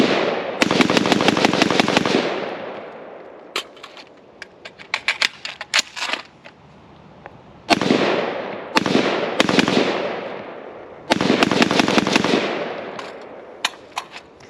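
LMT Estonian R20 rifle firing outdoors in loud close bursts of rapid sharp cracks, several strings separated by pauses and isolated single shots, each with a ringing decay.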